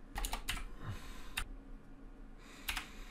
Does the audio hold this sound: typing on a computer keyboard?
yes